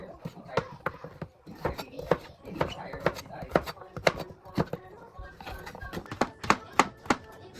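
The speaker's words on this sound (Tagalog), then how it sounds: "next thing to do is maghihiwa po tayo ng buttersquash" Butternut squash being chopped into small cubes on a cutting board, a rapid close run of knife thunks with uneven rhythm and brief pauses, soft talk faintly underneath.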